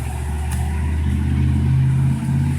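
Dothan Police Department patrol car's engine revs in a steady, loud idle-to-rev drone with rising low hum, close by and continuous, no voices.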